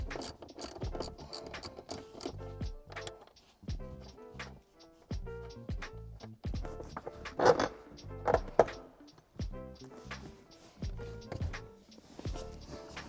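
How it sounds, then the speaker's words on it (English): A ratchet wrench removes the nuts holding a Dodge Challenger SRT performance seat, with repeated close clicking strokes in uneven bursts and short pauses between them. "Let's go ahead and remove these two nuts."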